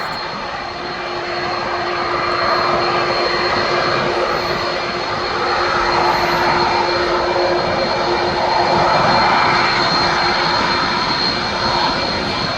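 A wet-leased TUI jet airliner arriving at Birmingham International Airport: a loud, steady engine roar with a sustained high whine that holds for the whole stretch, with no voices.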